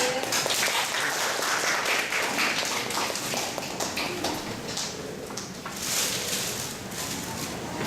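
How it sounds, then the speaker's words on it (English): Sustained applause from a large audience, a dense steady wash of clapping that continues throughout without anyone speaking. "let's welcome him with a big round of applause"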